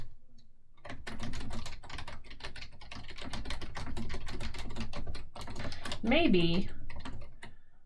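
Typing on a computer keyboard while writing a math journal entry in Google Docs, a busy run of quick keystrokes under a voice speaking throughout.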